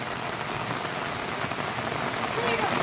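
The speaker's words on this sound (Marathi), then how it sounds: "आणि हे बघा धनुदक्ष बघा आनंद घेतात पावसाचा." Steady rain falls on surfaces near a stream during a monsoon outing to a village temple, a dense continuous patter that holds even and fairly loud throughout with no talk.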